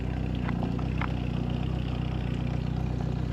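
Outboard engine on a RIB runs steadily at idle, its low mechanical hum and light clatter held close and continuous, raised slightly to a gentle rev with no talking.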